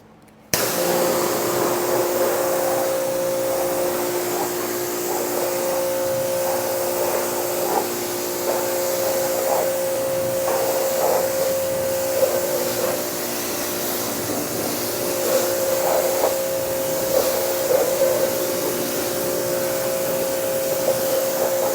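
Water spray rinsing foaming all-purpose cleaner off a car engine bay, a steady hissing rush heard close and continuous, with no talk over it.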